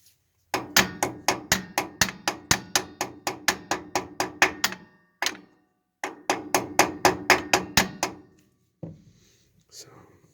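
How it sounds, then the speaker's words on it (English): A hammer strikes the axle seal on a 1992 Dodge D150 in a long run of sharp, evenly spaced metallic blows, a short pause, then another rapid series, close and loud. "we'll just hear that real sharp hammer sound"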